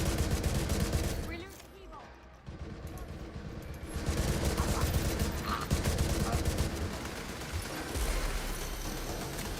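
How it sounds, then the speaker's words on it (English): Rapid automatic rifle fire in The Division, long close bursts of shots that pause for a moment and then resume, with a voice heard under the shooting. "Like what rifle fires at that rate?"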